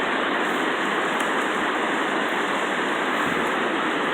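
River rapids near Port Hope where the river runs toward Lake Ontario give a dense, loud, unbroken roar of rushing water, steady throughout with no voices.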